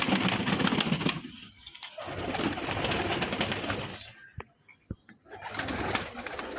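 Fulshira pigeons of good breeding, a lively restless pair in a home loft, coo continuously in a low rumbling murmur, with a few sharp clicks and brief pauses near the end.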